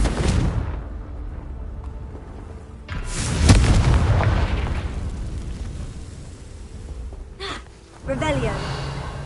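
Confringo blast spell in a Harry Potter video game: a loud booming burst around the middle, with rumbling explosive noise before and after and another impact near the end, under game music with no talk.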